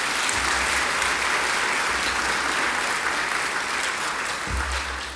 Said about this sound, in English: Let's give a round of applause for all the graduates one more time.